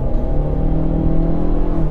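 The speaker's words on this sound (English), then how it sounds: "It's just the sound of the car." Chery Tiggo 7 Pro with a 1.5 litre turbo petrol engine revving, a steady low droning hum held at constant loudness throughout, heard from close by without voices.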